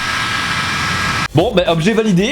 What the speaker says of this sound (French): Ceci est un ventilateur.